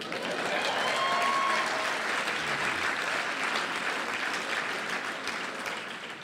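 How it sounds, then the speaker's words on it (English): An audience at a graduate school talk applauds steadily and fairly loudly, a dense wash of many hands clapping that holds for several seconds and eases off slightly near the end, with no voices standing out. "Give yourselves a round of applause."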